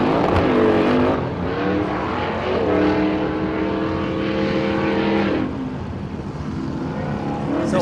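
An Ultra4 off-road racing buggy with a two-seat Campbell chassis and solid axles roars off the line at King of the Hammers qualifying, its engine note rising sharply, holding loud and then easing away.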